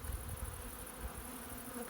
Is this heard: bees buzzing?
yes